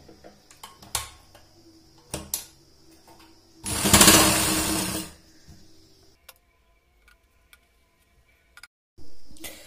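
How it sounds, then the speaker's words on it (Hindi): A sewing machine runs in one loud continuous burst of about a second and a half while stitching sleeve fabric, surrounded by scattered clicks, taps and handling noises, with a short rattle at the very end. "अब यहां से हम सिलाई लगा देंगे"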